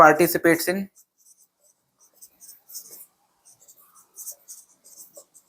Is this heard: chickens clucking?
no